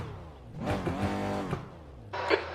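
Race car engine in the iRacing sim racing game revving up and down through gear shifts, loud and close, with tire noise and a sharp burst near the end.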